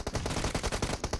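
Rapid bursts of automatic gunfire in PUBG Mobile during a national championship match, a dense run of sharp shots in quick rhythm, fairly loud and close with no talk over it.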